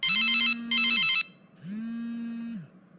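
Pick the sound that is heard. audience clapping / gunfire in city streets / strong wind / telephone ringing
telephone ringing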